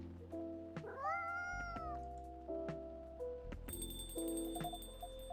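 A cat in the cozy café video game Coffee Talk 2 lets out a rising, drawn-out meow over soft game music and chimes, with no one talking.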